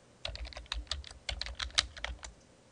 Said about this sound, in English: now I'll type in my ECE or my user ID password